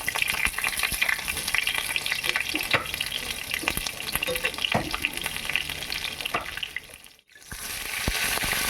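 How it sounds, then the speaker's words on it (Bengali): Pointed gourd (potol) pieces frying in hot oil with no turmeric or salt, a steady dense sizzle and crackle held close throughout, broken by a brief near-silent dip before the frying noise returns. "এমনি পটলগুলোকে তেলে ভেজে নিচ্ছি।"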